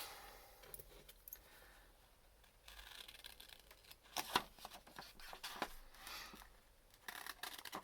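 Scissors snip through a page to cut out a single printed word for a found-word stash, giving a few crisp, close paper cuts and rustles in a quiet room with no talking.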